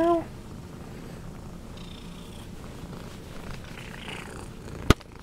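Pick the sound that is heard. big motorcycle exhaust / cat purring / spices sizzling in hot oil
cat purring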